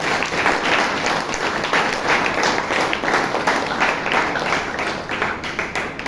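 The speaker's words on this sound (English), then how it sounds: "So please give yourselves a huge round of applause" Loud, dense applause fills the room at a Toastmasters club meeting in Bangalore, a sustained round of many clapping hands with no break.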